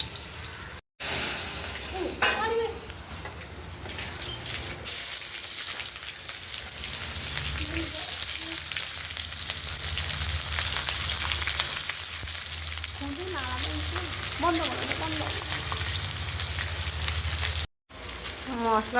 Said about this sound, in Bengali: এই যে আলু ভাজি করছি